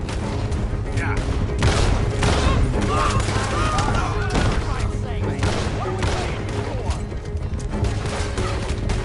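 Gunfire during a stagecoach robbery in Red Dead Redemption 2, a steady loud clatter of shots and impacts mixed with hoofbeat-like rumble and game sounds, voices faintly underneath.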